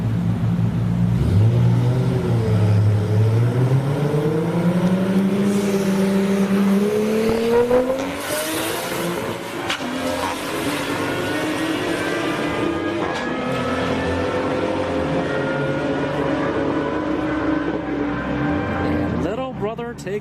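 Two Toyota Supras, one of them blue, roar down the drag strip at Orlando Speedworld, their engines rising steadily in pitch through the gears, loud and sustained for about twenty seconds, with a commentator talking over them.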